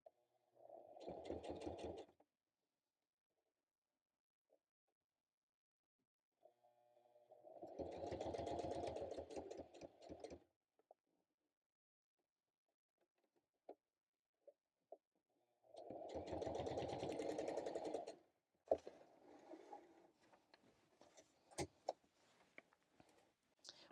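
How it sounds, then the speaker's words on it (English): A sewing machine stitches paper scraps, switching between straight and zigzag stitch, in three separate runs of fast, even mechanical whirring, each a couple of seconds long, with quiet pauses and faint handling clicks between them. "When I'm on a machine that allows it, I enjoy switching between a straight stitch and a zigzag stitch"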